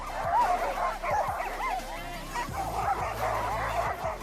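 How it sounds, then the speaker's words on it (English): Huskies at a hotel offering dog sled outings bark and yip in a busy overlapping chorus, close and excited, with short whimpering cries between the barks. "there are huskies. Loads of them, in fact."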